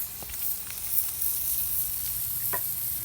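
Tuna casserole spilled onto hot grill coals sizzles in a steady crackling hiss, with a few sharp pops and spits breaking through the continuous frying noise.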